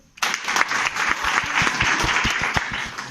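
A room full of people breaks into loud, dense clapping for a Delhi Crime Press editor, starting abruptly and holding steady throughout, with a few sharper claps standing out near the front and no talk over it.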